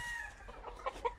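An old rooster at a breeding farm in Guamúchil, Sinaloa gives a few short clucks near the end of a brief, quiet stretch, faint and close.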